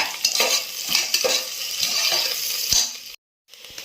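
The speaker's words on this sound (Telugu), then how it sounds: "ఉల్లి కొంచెం వేగింది కదా" Onions frying in a pan, a bright crackling sizzle with repeated spatula scrapes and clinks, cutting off briefly to silence near the end before a softer sizzle resumes.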